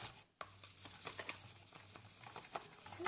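Homemade slime made from glue stick being stirred, a continuous wet, sticky patter and scraping of thick goo, close and fairly quiet, with no talking.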